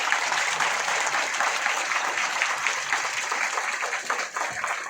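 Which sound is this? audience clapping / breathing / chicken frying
audience clapping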